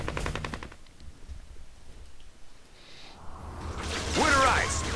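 Gunfire in the video game Second Sight: a fast burst of automatic fire opens the clip, followed by a quieter stretch, then whooshing game effects and a voice near the end.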